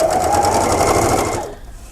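A sewing machine with an open-toe presser foot, used with a clamshell slit template, stitches in a fast even buzz for about a second and a half, then stops abruptly into quiet.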